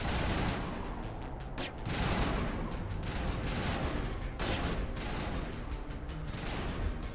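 Continuous, dense rapid-fire gunfire from the video game Mass Effect Legendary Edition, with sustained bursts rattling almost without pause and brief dips between volleys.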